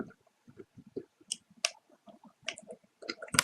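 Typing on a computer keyboard, a quick irregular run of light clicks and taps, close and quiet with short gaps between keystrokes.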